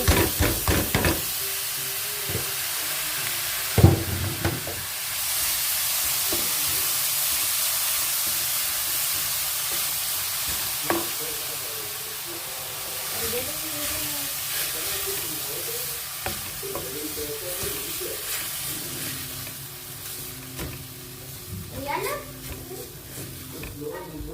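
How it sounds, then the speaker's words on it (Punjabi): Washed poha stirred into a sizzling tempering in a pan, a steady close frying hiss with scraping stirs and faint clinks, continuing under background noise. "ਪੋਹਾ ਧੋ ਕੇ ਰੱਖਿਆ ਸੀਗਾ ਮਿਕਸ ਕਰ ਦਿੰਦੇ ਆ ਤੜਕੇ ਦੇ ਵਿੱਚ"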